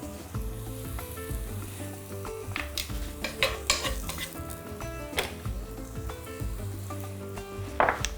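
Onion fries in a pan with a steady, moderate sizzle while a utensil stirs and scrapes against the metal in quick, irregular clinks, heard close.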